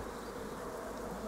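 Honeybees emerging from brood cells in a hive give a steady, close, dense buzzing hum with no pauses and no voices.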